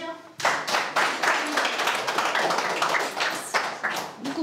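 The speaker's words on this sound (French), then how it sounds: "Vous pouvez les applaudir." An audience claps in applause at a French prison, a close burst of many hands that starts suddenly and stays dense throughout.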